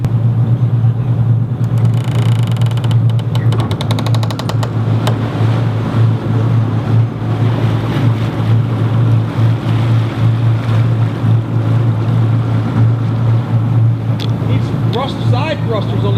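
Boat side thrusters drone in a steady, loud low hum that holds throughout, with wind and water noise over it and some faint talk in the background.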